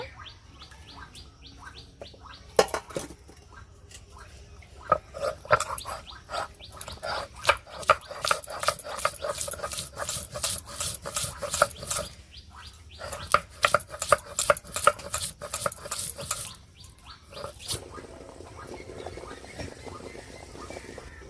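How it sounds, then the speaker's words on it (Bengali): Ginger and garlic are ground together into a paste, a long series of close rhythmic scraping and pounding strokes with brief pauses, moderately loud, with no speech. "বন্ধুরা এবার আদা রসুন একসাথে বেটে নেব"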